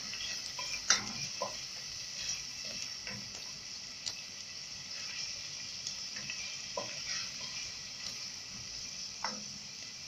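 Tomatoes fry with onion in a pan, giving a soft, steady sizzle with occasional light ticks and stirring taps, close but quiet.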